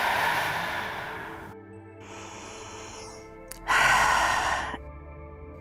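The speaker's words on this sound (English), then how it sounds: "Breathe out." Slow audible exhales during a hip-focused yoga exercise, two long breathy releases separated by a short pause, close and soft with no speech.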